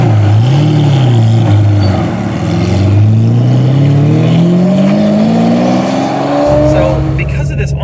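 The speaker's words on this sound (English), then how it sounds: "Okay, we're off with the Testarossa." Ferrari Testarossa pulling away from a stop, its engine rising steadily in pitch through a gear, loud and close from inside the cabin, then a shift and fresh pull near the end; a voice speaks under the engine.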